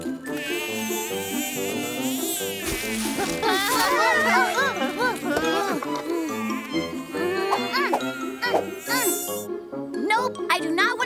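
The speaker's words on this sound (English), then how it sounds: "There's lots of mosquitoes around, too." Cartoon mosquitoes in a forest at night whine in high, wavering buzzes that rise and fall over a musical score, with some jingling tones mixed in.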